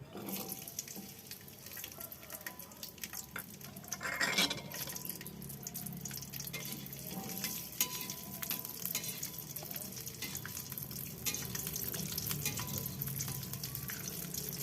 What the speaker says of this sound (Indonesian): Kita goreng sebentar aja di minyak panas.